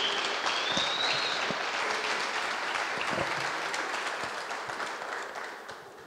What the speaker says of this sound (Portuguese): vamos aplaudir o Jake